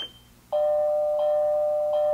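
An Escort SmartRadar radar detector sounds a bright electronic doorbell-like alert, a steady sustained tone that starts abruptly after a moment of quiet and repeats in pulses about every 0.7 seconds, loud and close.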